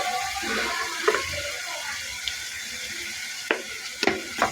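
Ginger paste frying in a pan while being stirred, with a steady sizzle and a few sharp clinks of a spoon against the pan near the end.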